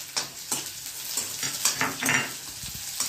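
Onion sizzles in a pan with curry leaves and carrot for pulao, a moderate frying hiss broken by several scraping stirs of a spoon against the pan, close by and without talk.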